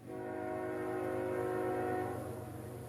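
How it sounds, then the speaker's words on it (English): CSX Q541 freight train approaching, a steady low rumbling drone with sustained tonal horn-like hum, growing slightly then holding, heard alone at moderate distance. "I think I hear a train coming"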